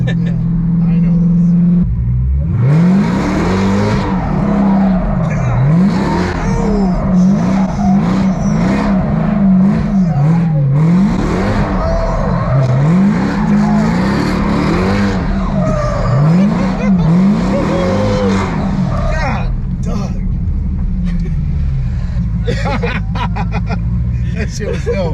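A 1,000-horsepower Dodge Hellcat drift car roars and revs in long rising and falling sweeps, with tire squeal and skidding as it drifts, loud and continuous for most of the stretch while people talk and chatter over it.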